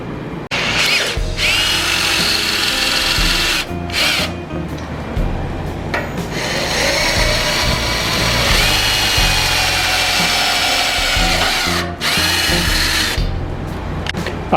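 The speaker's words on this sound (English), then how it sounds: "So our drill, our hole, it's gonna be right there." A power drill bores holes in a vehicle mount for ZMoon 7-inch LED driving lights, stepping up bit sizes from a pilot hole to 5/16 inch; a loud, steady whine runs nearly continuously with a few brief pauses.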